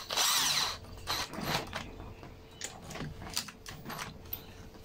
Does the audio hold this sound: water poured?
no